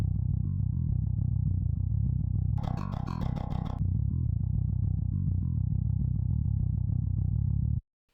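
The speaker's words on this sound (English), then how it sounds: "I have the Johan BG bass from JST set up like this" A Johan BG bass from JST layered with a virtual bass sub, heavy distorted low-end tone droning continuously and loud, with a brief brighter burst partway through before cutting off abruptly near the end.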